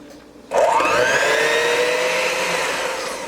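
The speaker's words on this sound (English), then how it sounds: "And then we're going to mix this up." A hand mixer whirs loudly through buttercream frosting, starting abruptly and holding a steady high motor whine with a slight pitch rise as it runs, no talking.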